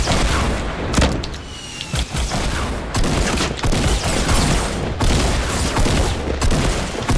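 Rocket explosions in Fortnite boom repeatedly in rapid succession, loud and close, with dense bursts of gunfire-like blasts and brief gaps between volleys.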